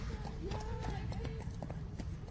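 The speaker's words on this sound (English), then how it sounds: "Here's a person on a horse." A horse's hooves clip-clop in a steady, quick rhythm on a hard surface outdoors. The sound is faint and distant and sits under low rumbling background noise and a muffled voice.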